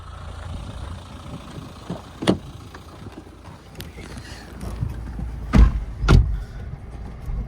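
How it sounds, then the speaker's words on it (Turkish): People climbing into a Dacia Duster outdoors, with several sharp thuds of car doors shutting, the loudest two close together near the end, over low ambient rumble. "arabaya binelim şimdi"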